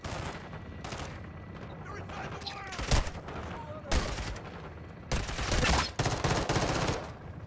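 Pistol shots ring out in Call of Duty: Modern Warfare 2, a few sharp separated cracks over constant game background noise, with louder bursts near the end; a voice is faintly present underneath.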